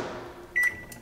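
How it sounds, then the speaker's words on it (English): A microwave oven starts up while heating soft plastic bait material in a Pyrex dish, giving a single short, clear electronic beep over a faint steady hum. "Next, it goes into the microwave and we're going to put it right here in the center."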